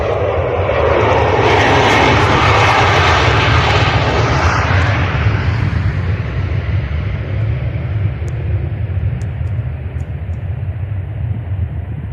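A loud, steady airplane engine roar with a low rumble, the pitch slowly shifting as the aircraft passes close by and descends to land at night.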